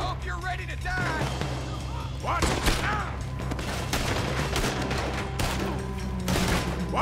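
A Red Dead Redemption 2 shootout: rapid, dense bursts of gunfire crack out close by, volleys overlapping continuously for several seconds, with voices calling out between shots.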